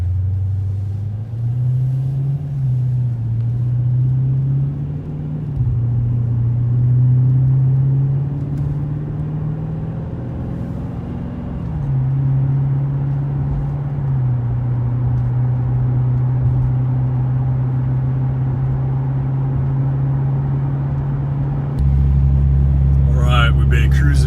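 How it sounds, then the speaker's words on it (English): A 2014 Dodge with an aFe Power Magnum FORCE Stage-2 Pro Dry S cold air intake cruises on the highway at 65 mph, its engine droning low and steady over road rumble while a voice talks inside the cab. "We've been cruising down the highway at 65 miles an hour for about 10 minutes now"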